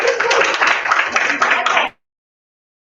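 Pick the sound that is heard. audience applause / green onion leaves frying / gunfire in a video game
audience applause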